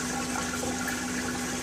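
Water flowing steadily into the overflow of an aquarium tub, a constant close rushing wash with a faint pump-like hum underneath, with no voices.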